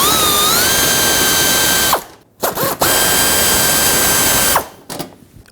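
A ratchet spins out 5.5mm screws from a 1998-2011 Ford Ranger front fender liner along the wheel arch: two long runs of rapid, close, steady clicking, each ending abruptly, with brief handling noise between them.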